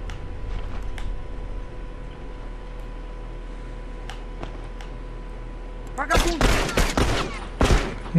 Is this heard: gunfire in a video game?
yes